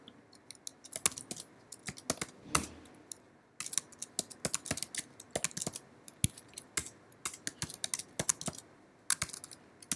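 Typing on a computer keyboard, a steady run of close, crisp key clicks in irregular bursts with brief pauses, no talking over it.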